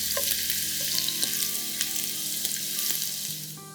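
Finely chopped red onions sautéing in a hot pan for a Malvani mushroom curry, a loud, close, continuous sizzle with a few light clicks of a spoon and no voices.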